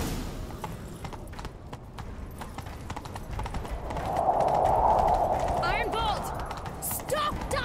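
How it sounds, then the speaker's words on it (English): Horses gallop in The Witcher 3: Wild Hunt with a fast, steady clip-clop of hooves under game ambience and music, and the sound swells briefly midway. "And now we're fucking racing horses"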